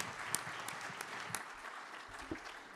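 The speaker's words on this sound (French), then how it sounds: "Je pense qu'on peut les applaudir." Quiet applause from a conference audience for panel speakers at a spring convention, steady soft clapping throughout with a few sharper claps standing out.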